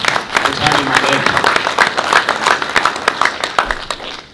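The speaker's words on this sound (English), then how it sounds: "Round of applause for Tony Mundine." At a boxing press conference, the room gives a short, loud round of applause with dense, continuous clapping from the seated audience.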